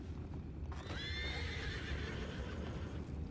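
A horse in the Red Dead Redemption 2 video game lets out a loud, drawn-out neigh over steady background noise and soft hoof clip-clop.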